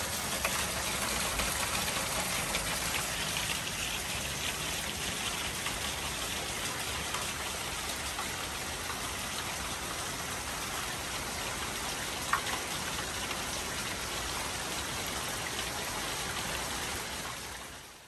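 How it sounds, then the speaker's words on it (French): Torrential rain pours steadily for the full stretch, a dense, even hiss of water with no letup and one brief sharper spatter partway through. "Il y avait une pluie torrentielle qui n'a pas cessé de tomber toute la journée."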